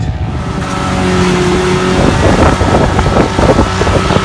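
An off-road vehicle at Silver Lake Sand Dunes, its motor weak and running on tires with no air, drones loudly and close with a rough, rising engine note buffeted by wind noise.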